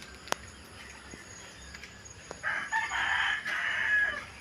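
A rooster crows loudly nearby in one long call, over a steady background hiss with faint insects.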